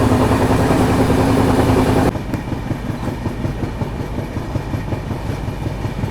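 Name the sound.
Humsafar special train running on rails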